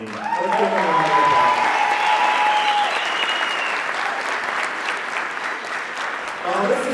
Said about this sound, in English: This is your moment, and this applause is your applause for your success.